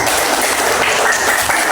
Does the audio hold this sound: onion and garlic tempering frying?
no